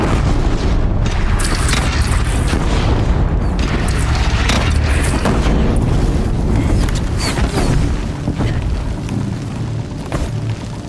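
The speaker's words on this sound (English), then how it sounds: "They only have one cannon!" Cannon fire in a Horizon Zero Dawn battle against a bandit clan: loud, continuous booming and explosive rumble fill the whole stretch, easing slightly toward the end.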